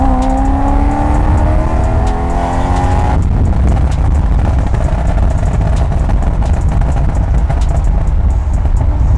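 A BMW M3 with a burble exhaust tune revs high, its rising engine note cutting off abruptly into a loud, crackling, popping burble that rattles on and on, close to the car.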